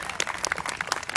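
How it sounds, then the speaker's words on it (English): Rally crowd at a Labor Day event in Woodstock applauding, a short burst of scattered, moderately loud clapping with no voices over it. "Give yourselves a round of applause on that"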